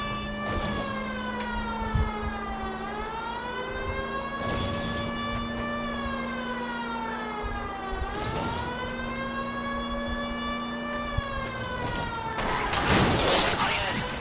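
A police car siren in the game L.A. Noire wails in long rising and falling sweeps, loud and close, with bursts of crashing noise and some speech over it.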